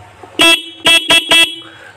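A TVS Ntorq Race Edition scooter horn with a loose connection honks four times in short, uneven bursts, buzzy and loud, with a faint idle hum around it.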